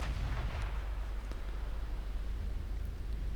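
A deep, rumbling naval gun barrage fires incendiary high-explosive shells in the Ultimate Admiral warship game, with dense, continuous booms and roar filling the whole stretch.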